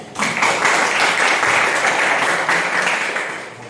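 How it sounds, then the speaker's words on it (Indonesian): A classroom of students claps for a classmate in a loud, dense round of applause that holds steady for a few seconds before tapering slightly. "Kasih aplaus"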